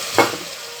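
Finely chopped carrot and beans are tipped into a hot pan and stirred, giving a brief soft burst of sizzling that settles into a steady low frying hiss.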